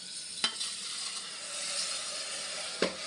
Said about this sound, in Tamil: அரிசியும் சேர்த்துட்டு நல்லா கிளறி அரிசியும் தட்டைப்பேரும் நல்லா மிக்ஸ் ஆகிற அளவுக்கு நல்லா கலந்து விட்டுக்கலாம்